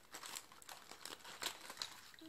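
Small decorative branches on a Christmas ornament being cut, giving a series of quick, faint crinkling snips and crunches close by.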